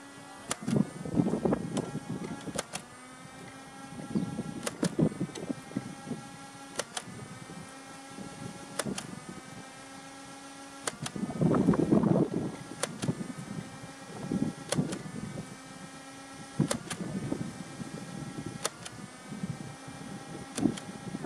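Motors of a Nerf Fortnite AR-L blaster whir and spin up repeatedly, with sharp snaps at regular intervals as foam darts fire one after another, about ten shots.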